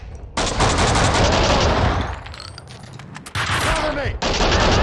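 Gunfire in the action game Max Payne 2, loud bursts of automatic shots that break off into a quieter stretch with some ringing, then resume as heavy rapid fire, close and dominant.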